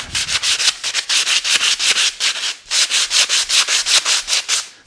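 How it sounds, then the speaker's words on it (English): Coarse 60 to 80 grit sandpaper rubs by hand along a maple splitting axe handle in brisk, even back-and-forth strokes, loud and close with no talking. "start off with like some 60 grit or some 80 grit and just work it"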